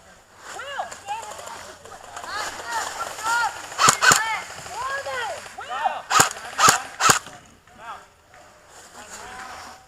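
Airsoft guns fire BBs outdoors during a game: quick sharp cracks come singly and in short bursts, mixed with people shouting nearby.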